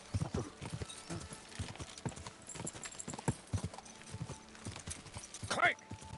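Steady clip-clop of horse hooves at a trotting pace in Kingdom Come: Deliverance 2, with someone talking over it and a brief whinny near the end.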